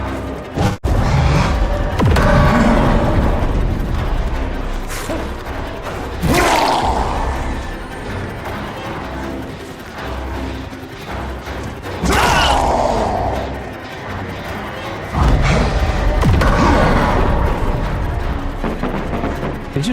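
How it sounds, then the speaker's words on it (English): Rapid bursts of popping and crackling from firecrackers in the game Dead by Daylight, several loud clustered explosions with booms and thuds over a busy game soundscape, while players talk. "Did you just drop firecrackers?"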